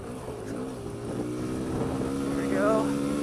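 A Kawasaki KLX140L dirt bike engine climbs a steep section, its harmonic drone rising in pitch and loudness toward the end, close up with wind buffeting and a rider talking over it.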